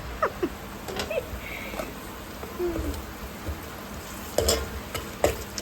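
Ginger garlic paste frying and being stirred in a pan while cooking meen kulambu, a fish curry, with soft sizzling and scattered scraping stirs in several bursts, fairly close, without talk.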